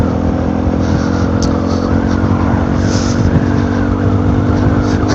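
A passing vehicle roars by a motorbike rider on the road, its engine noise loud and continuous, mixed with steady road and wind rumble throughout.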